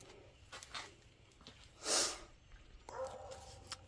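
Dogs snort and sniff close by while a deck is being built, soft breathy snorts scattered throughout with one louder, sharper snort in the middle, fairly faint overall.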